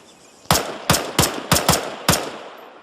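Gunfire in the video game ARMA III: six sharp shots in an uneven sequence, loud and close, each with a short decaying tail, no talking.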